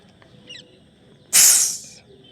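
A voice imitates a Pepsi bottle being opened with a single sudden, loud fizzing hiss that lasts under a second and then fades, set against quiet background.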